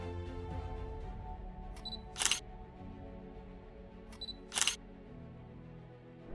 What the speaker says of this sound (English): wait for the device to capture the image with the capture sound